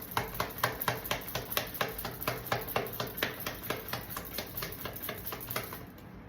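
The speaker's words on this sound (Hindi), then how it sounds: "सो चलिए स्टार्ट करते हैं शफलिंग से एंड देखते हैं आपके लिए क्या कार्ड्स आते हैं।" Tarot cards being shuffled, with a rapid, regular train of crisp flicks and taps close by that ends abruptly, and no voice.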